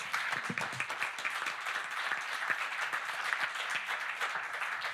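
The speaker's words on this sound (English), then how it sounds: "Applause for all the panelists." Audience members at a panel discussion give the panelists a round of applause, a moderately loud, continuous patter of many hands with distinct individual claps, steady for five seconds without speech.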